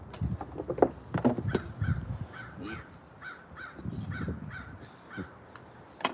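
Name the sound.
crow cawing outside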